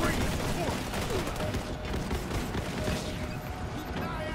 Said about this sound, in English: Turrets are doing their work.